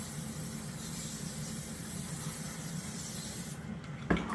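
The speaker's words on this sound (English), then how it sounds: "I'm going to spray this very quickly" Canola palm cooking spray hisses onto a pan in a kitchen, a steady close aerosol hiss lasting a few seconds before it stops with a small clack.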